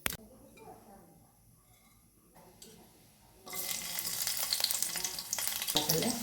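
An Indian tempering of onion, garlic and tomato hits hot oil: after a quiet stretch with faint kitchen noise, a loud, dense crackling sizzle erupts abruptly and keeps sputtering steadily close by.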